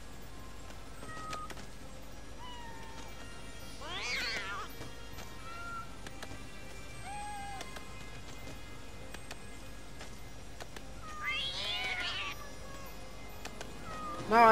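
Several cat meows sound from the LEGO Movie 2 Videogame, mid-distance and moderate, with two clear bursts of mewing over a steady background of game music and ambience.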